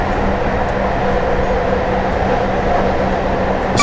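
A Class 158 diesel train runs along the North Wales coast between Abergele and Shotton in Train Simulator 2018, a steady loud cab rumble and engine drone with a faint low hum, continuous and unbroken.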